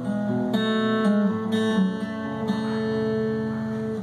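An acoustic guitar plays the fingerpicked pattern from a song, with clear ringing plucked notes and sustained chords, close and alone.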